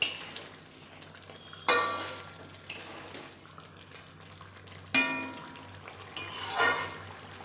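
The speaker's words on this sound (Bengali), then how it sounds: "মাছে আমরা ধনেপাতা বাটা দিয়ে দেবো। নেড়ে নিই ভালো করে।" A spoon scrapes and clacks against a pan while tilapia is stirred with ground coriander paste, giving a few sharp metallic knocks amid soft sizzling and stirring noise, fairly close and with no talking.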